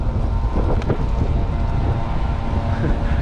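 A leaf blower at a caravan park in Braemar, Scotland: a steady, droning motor roars continuously alongside gusty wind noise, fairly loud and close, with no pauses over the few seconds.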